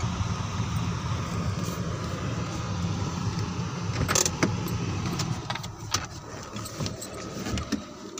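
A car arrives near the Baba Jinda Nath temple outside Khanpur, its steady engine and road rumble filling the clip, followed by scattered clicks and knocks like doors and people climbing out, fairly close.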